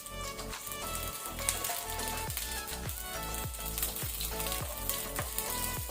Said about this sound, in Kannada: ಆನಂತರ 1 ಕಡ್ಡಿ ಕರಿ ಲೀವ್ಸ್, ಒಗ್ಗರಣೆ ಸೊಪ್ಪು ಹಾಕೋಣ